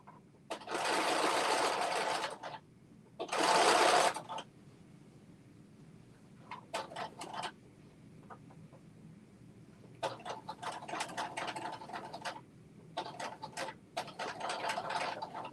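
A sewing machine hems the bottom of a dress in several bursts of rapid, loud stitching, separated by quiet pauses and shorter stop-start runs.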